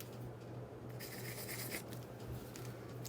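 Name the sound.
charcoal drawing doodles on paper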